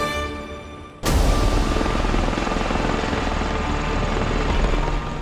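A V-22 Osprey tiltrotor aircraft flying, its rotor roar cutting in abruptly and holding as a loud, steady, close whooshing drone with a throbbing low rumble, no voices.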